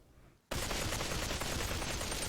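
Gunfire in the Population One VR game, a sustained rapid automatic burst that starts abruptly and stays loud and dense without a break, with no talking.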